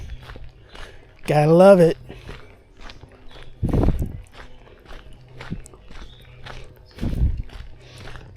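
Footsteps on a crushed limestone stretch of the Montour Trail give a few spaced, close crunches, with short bits of someone talking in between.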